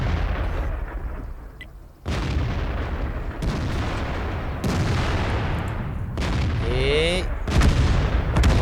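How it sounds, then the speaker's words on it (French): A SU-14-2 self-propelled artillery gun fires in the World of Tanks video game, with several heavy booms and rumbling blasts in sequence and brief French speech heard among them. "je maîtrise très bien mon artillerie"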